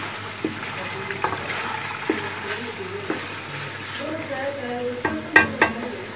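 Chicken frying in a home kitchen pan, a steady soft sizzle running throughout with intermittent scraping knocks of a stirring spoon against the pan, moderately close, with occasional brief voices.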